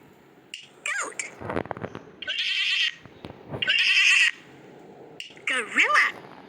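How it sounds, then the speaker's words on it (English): A goat bleating several times, loud and close, with short pauses between the wavering bleats. "Goat."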